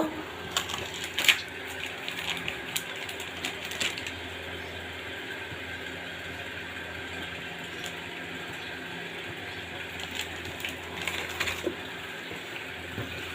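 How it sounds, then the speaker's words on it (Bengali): Small puti fish frying in oil in a wok, a steady hissing sizzle with scattered clicks and light clatter, moderately loud and without speech. "এবার লাল লাল করে একটু মাছটাকে ভেজে নেব"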